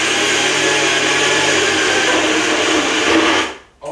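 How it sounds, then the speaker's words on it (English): Food processor whirs at steady high speed, loud and close, a continuous motor drone that cuts off near the end. "Is this a fruit processor?"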